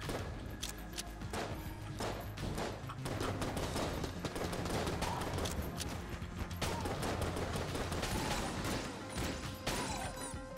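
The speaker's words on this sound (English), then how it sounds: "it makes shotguns like this so much better" Shotgun blasts and rapid gunfire in the bullet-hell game Enter the Gungeon, dense and continuous over layered game music and effects, with loud overlapping bursts throughout.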